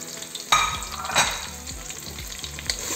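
Onion, leek, carrot, whole garlic cloves and bay leaf land in hot oil and fry, starting with a sudden burst of sizzle that settles into a steady close crackle, with a few stirring scrapes and no talk.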